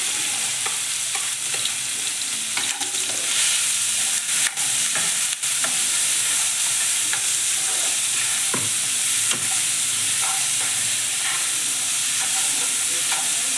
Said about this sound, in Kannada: ಸ್ವಲ್ಪ ಈರುಳ್ಳಿ ಫ್ರೈ ಆಗಬೇಕು